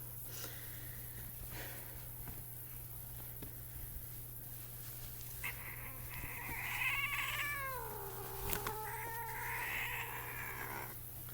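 A 14-month-old spotted tabby cat lets out a couple of drawn-out, wavering meows close by, with quiet sniffing and rustling before them and a low electrical hum throughout.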